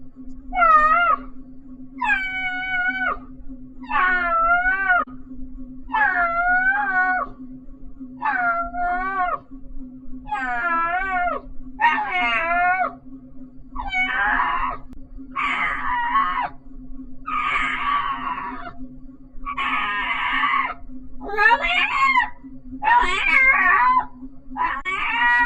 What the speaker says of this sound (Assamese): মেকুৰীয়ে পোৱালিক আহাৰ দিয়া মাত